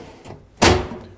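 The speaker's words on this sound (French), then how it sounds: "Je vais retirer mon tiroir Avante-Q Quadro pour le déposer" A Hettich AvanTech YOU drawer is lifted off one runner system and set onto another, giving a light knock followed by a sharp, loud sliding thud that fades quickly.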